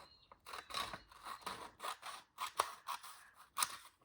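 Scissors making a series of crisp, close snips through paper while cutting an angled pocket insert, about ten short cuts in an uneven rhythm in a quiet room.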